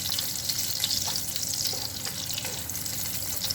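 Sausages frying in a pan, a steady close hiss and sizzle with faint scraping as they get bounced around, no talking.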